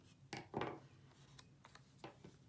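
A few quiet, crisp snips of large scissors cutting paper, spaced apart, with faint rustling between cuts in a hushed room.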